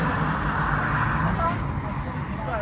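A modified Volkswagen Golf GTD pulls away from a car meet, its engine a continuous rough roar blended with loud crowd noise and people talking over it.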